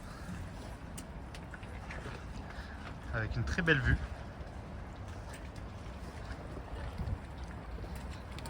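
A boat rocks on the water of a harbor in the rain, giving a steady low wash of water and hull noise with a brief louder creaking, knocking burst midway while a person speaks over it.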